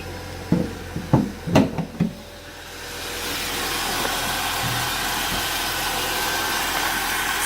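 A 1996 Holden Commodore base model, freshly serviced with new plugs and leads, cranks and catches on a cold start, a few sharp bursts, then settles into a steady, loud, even idle.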